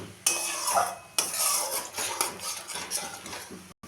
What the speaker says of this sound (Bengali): দিলাম একটু চিনি, দিয়ে আরেকটু কষিয়ে নেব